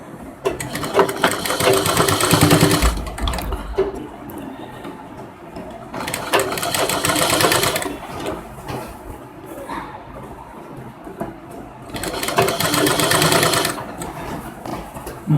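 An electric sewing machine stitches a princess cut lehnga blouse in three loud bursts of rapid whirring, each about two to three seconds long, separated by quieter pauses with faint handling sounds.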